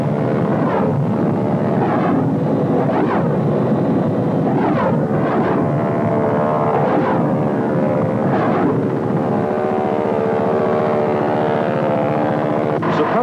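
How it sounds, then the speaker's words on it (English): A Huey Cobra helicopter makes firing runs with rockets, miniguns and grenades in Vietnam, a continuous loud roar of rotor and engine with repeated bursts and surges throughout. "Firing runs are made from several different directions and rake the area with rockets,"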